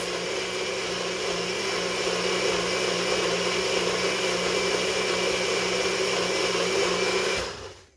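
A blender whirs loudly and steadily for about seven seconds as it mixes a peanut butter meal replacement shake, then winds down and stops. No voices are heard.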